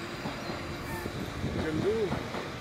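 A passing train rumbles low and steady with faint wheel squeal, heard at a distance while a person talks briefly over it.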